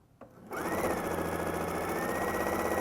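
A sewing machine stitching quilt fabric starts up after a brief click and runs in a fast, steady, close mechanical whir to the end.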